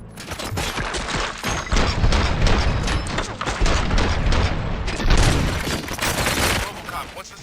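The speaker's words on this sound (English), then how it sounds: "Gunshots? What's going on?" Dense gunfire in the video game RoboCop: Rogue City, a loud continuous barrage of rapid shots and booms with no pause for the whole stretch.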